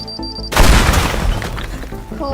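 A bomb blast in the voxel-destruction game Teardown tears into a tower, a sudden loud boom followed by a dense, crumbling roar of shattering debris that trails off over about two seconds.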